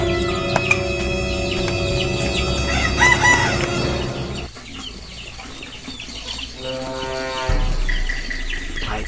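Roosters crow repeatedly over a busy background of clucking hens, fairly close and loud, with a brief quieter gap before more crowing.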